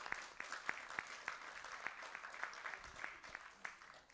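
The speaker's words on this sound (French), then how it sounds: "vous pouvez les applaudir" Audience at a public town budget meeting applauding, a fairly quiet, scattered clapping with distinct individual claps standing out, steady and somewhat distant.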